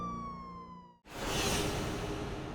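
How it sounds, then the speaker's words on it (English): A police car siren wails in steady tones, then cuts off abruptly and gives way to a broad, fairly quiet rush of noise as the car drives away into the night. "The flashing lights of the police car faded into the night as they drove away."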